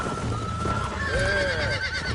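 Horse neighing in Red Dead Redemption, a clear whinny with rising and falling tones over a steady game background, with soft hoof sounds mixed in beneath.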